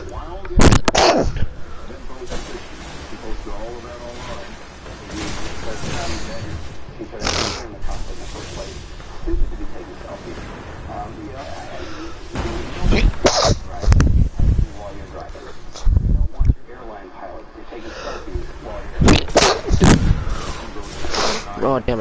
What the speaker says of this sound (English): Oh damn, I keep sneezing.